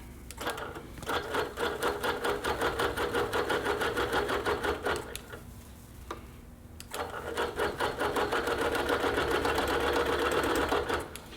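A quilting sewing machine stitches down a basted quilt top, running in steady rapid bursts with a short pause midway, close and loud with no talking.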